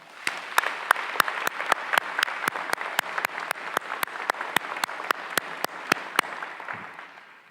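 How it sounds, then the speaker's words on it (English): Audience clapping at a graduation ceremony, steady, dense applause from a large crowd sustained for several seconds, with a few sharp hall knocks marking a regular beat before it fades. "So please give them a round of applause."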